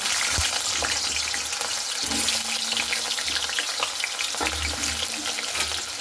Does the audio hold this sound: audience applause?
no